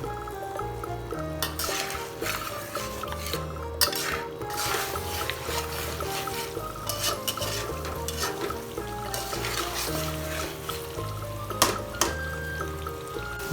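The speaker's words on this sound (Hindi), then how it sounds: "चम्मच को कढ़ाई में चलाते रहेंगे" A spoon works mutton and onions around a kadai in oil on medium-high heat, giving repeated scraping strokes and metal clinks over a continuous low frying sizzle, close and steady, with no speech.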